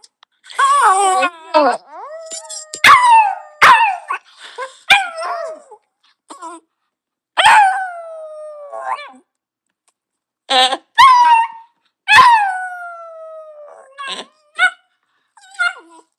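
A dog howls and whimpers in long, wavering cries broken by short yips, loud and close, across several bouts separated by brief silences.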